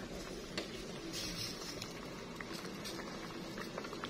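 A pot of vegetables simmers at a rolling boil during home cooking, giving off soft, irregular bubbling and faint pops close by, with no speech.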